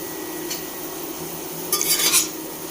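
A utensil scrapes and clinks against a pan while green bananas are stirred into bathua greens, with a couple of brief metallic scrapes and a faint sizzle beneath, close and fairly quiet.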